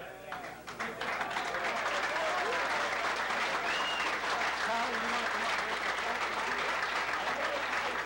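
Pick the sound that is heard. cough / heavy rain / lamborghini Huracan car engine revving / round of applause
round of applause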